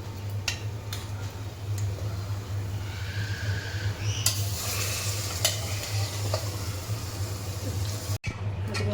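Cooked mutton is stirred and scraped in a hot frying pan under a steady sizzle, with occasional sharp clicks of a spoon against the pan.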